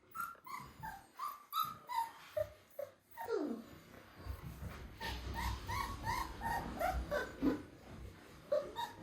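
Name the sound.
puppies squeaking and whimpering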